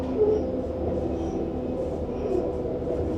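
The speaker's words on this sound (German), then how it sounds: "Hört ihr das Gequietsche?" A Metronom regional train rolls along with a steady low rumble while faint, thin squeals from the dampers rise now and then over the rail noise.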